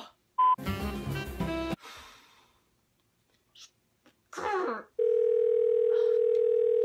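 Steady telephone dial tone droning alone for about two seconds after a disconnected call in a tech support comedy sketch, following a loud noisy burst and brief breathy sounds.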